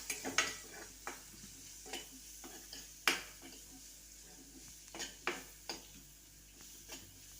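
Turmeric and onion frying in a pan, with a soft sizzle under repeated sharp scrapes and clacks of a spoon stirring against the metal, irregular and close by.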